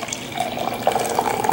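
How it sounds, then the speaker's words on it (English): Beer, a Fieldwork Brewing Pulp at 6.9% ABV, poured into a glass from the side, a soft continuous trickling and fizzing of liquid, fairly close, with no talking. "We're going to pour it from the side like Darwin says"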